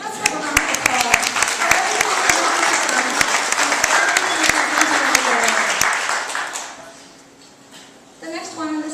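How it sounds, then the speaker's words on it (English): An audience at a resort quilt gathering breaks into a loud, sustained round of applause with scattered sharp claps, which fades after about six seconds before voices and a few claps return. "Let's have a round of applause."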